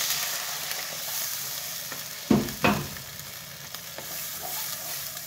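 Water added to a hot frying pan while making a small-fish curry with radish and brinjal, a steady sizzle that bursts into two sharp hissing surges before settling back, close and without speech.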